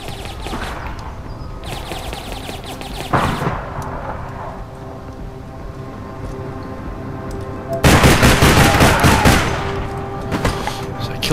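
Gunfire in the online game APB, with rapid bursts of shots in several clusters, a loud dense volley near the end, and game ambience filling the gaps.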